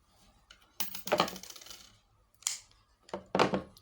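Scissors snip through craft thread while a turban is made, a few crisp, close cuts in short bursts with pauses between, no talking.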